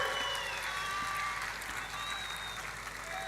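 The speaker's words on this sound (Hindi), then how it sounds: "राहुल के लिए ताली बजाओ जोर से।" Outdoor rally crowd clapping for candidate Rahul Awade, a steady wash of applause from a large audience heard at moderate distance, with faint voices and a thin whistle-like tone over it.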